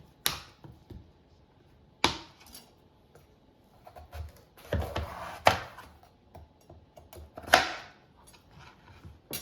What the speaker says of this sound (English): I'm going to keep slicing it. So I'm going to cut it into quarters.